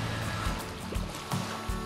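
Beach waves in Batam, Indonesia wash in steadily as a continuous broadband surge with small swells of splashing, close and moderately loud, with no voices.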